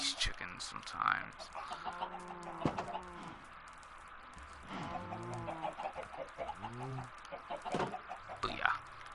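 Chickens in the Minecraft video game cluck repeatedly in short, pitched bursts across the clip, with several birds overlapping at a moderate level and no talking.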